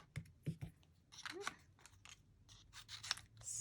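Scissors fussy cutting paper for a handmade card, a scattered series of small snips and paper rustles, close and quiet, with a few faint voice fragments in the background.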